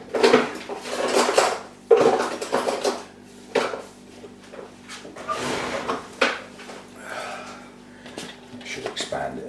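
A screwdriver grinds and scrapes to widen a hole in an orchid pot, giving uneven bursts of scraping and clinking while a person talks throughout.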